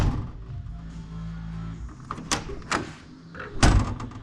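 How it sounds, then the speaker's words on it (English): The door of a 1989 Kenworth Aerodyne cab-over truck, newly fitted with a replacement hinge, swung shut gently rather than slammed, giving a few clunks and latch clicks close by, with a hum underneath. "Let's close the door and have a look. Okay, we're not going to slam it. We're going to close it normally."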